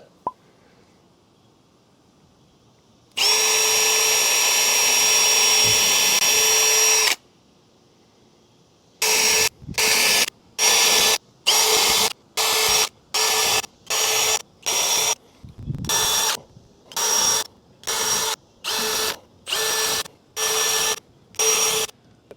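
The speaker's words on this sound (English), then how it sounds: "let's just get some pilot holes done and keep on moving forward." A power drill bores pilot holes for a Maxxair fan adapter on a Ford Transit van, one sustained whir followed by a long series of short, evenly repeated bursts, loud and close.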